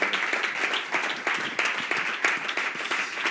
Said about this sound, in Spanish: Yo creo que se merece un aplauso, una frase final.